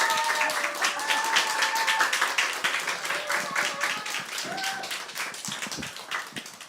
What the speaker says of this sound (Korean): 환영의 의미의 박수로 목사님 맞이할까요?